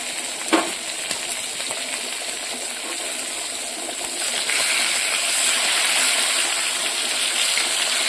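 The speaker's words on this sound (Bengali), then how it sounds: "মাছটা এদিকে ভাজার জন্য বসিয়ে দিয়েছি" Fish sizzles steadily in a hot pan in a home kitchen, a dense crackling hiss that swells slightly louder partway through, with no speech.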